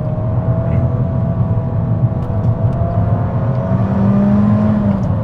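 A 2022 Abarth 595 Competizione's small engine drones loudly from inside the cabin, its pitch shifting and rising as revs climb after a downshift, steady and continuous.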